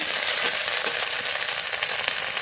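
A paste of ground cumin, ginger and salt sizzles and crackles steadily in a hot pan, a dense, even frying hiss with soft stirring scrapes, close up and with no voices.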